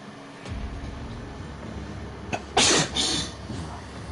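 A person sneezes once, sharply and close by, during a casual gaming session at home, with a softer catch of breath just before it against quiet room noise.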